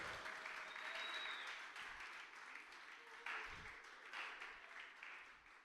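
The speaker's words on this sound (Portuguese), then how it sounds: "Vamos dar uma salva de palmas a esses irmãos." A church congregation applauds the choir, a broad, fairly faint wash of clapping that holds steady and swells again midway, with some voices mixed in.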